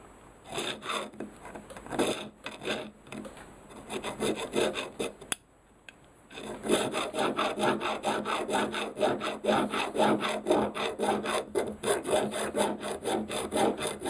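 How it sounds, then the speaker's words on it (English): Metal file rasping along the edge of rusty vintage Sakai/Audition electric guitar hardware, close rhythmic back-and-forth scraping strokes with a short pause partway through, then faster continuous filing. "I'm going to file that with a file"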